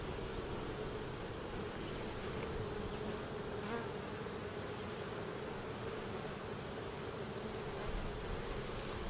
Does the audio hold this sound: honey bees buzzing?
yes